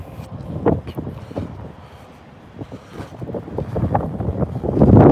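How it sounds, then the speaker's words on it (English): Gusty wind buffets the microphone in uneven rumbling surges, easing midway then building stronger toward the end, with no voices. "It is windy."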